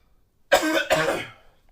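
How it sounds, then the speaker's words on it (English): A single close, sharp cough, a quick double burst with a throat-clearing quality, set against silence. "Sorry about the cough."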